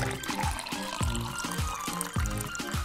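Water pours into a Maggi chilli cup noodle, a steady gurgling stream with regular glugging pulses filling the cup up close.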